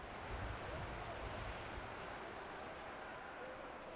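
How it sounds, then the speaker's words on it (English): Computer fans revving hard, heard as a steady broadband whoosh that stays loud and unchanging throughout, with a voice talking under it. "that noise you can hear in the background, that's my computer fans"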